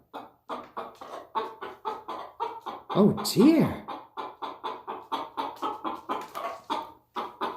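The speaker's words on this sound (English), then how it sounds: "So much clucking over a little tree." Chickens cluck in short rapid bursts around a new little Christmas tree, repeated close clucks with a louder squawking flurry midway, and a voice exclaims briefly.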